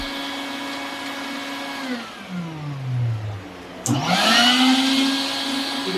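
A Festool CT15 dust extractor blows a steady airflow through a hose attachment, a loud whooshing motor roar that dips and shifts pitch midway, then surges back up louder and brighter.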